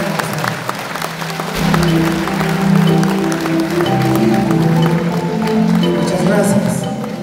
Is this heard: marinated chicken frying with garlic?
no